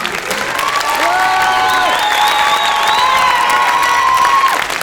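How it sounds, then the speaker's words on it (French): An audience applauds and cheers loudly for a schoolchildren's orchestra of CM2 pupils, with whoops and children's shouts rising over steady clapping. "On les applaudit très fort."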